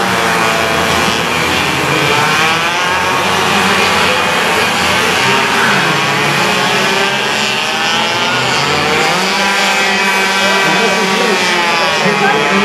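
Race cars on warm-up laps at the Bermuda Hamilton Grand Prix street circuit, engines whining and revving loudly as they pass, with pitch sweeping up and down continuously and a commentator talking over the noise.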